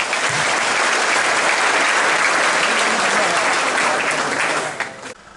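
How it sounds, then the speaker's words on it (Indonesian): Steady applause from a crowd of army personnel during a brigade commander's visit to an Indonesian infantry battalion, sustained for about five seconds before tapering off at the end. "Tepuk tangan."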